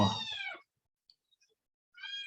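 A hungry cat meows loudly and close by, giving one drawn-out call, then a pause of near silence before a second meow begins.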